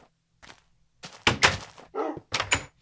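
Several blocky Minecraft door placement thunks, irregularly spaced across a few seconds, each short and fairly loud with brief clattering tails, heard alone without talk.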